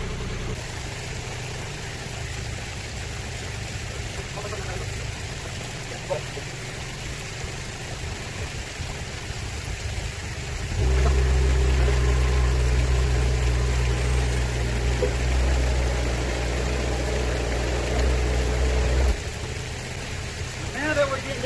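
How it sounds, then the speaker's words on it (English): A heavy machine engine rumbles steadily as it lifts strapped boulders for a natural swimming pool waterfall, swelling to a louder, deeper drone midway before easing back under a constant outdoor hum. "now I've got to grab it with a machine"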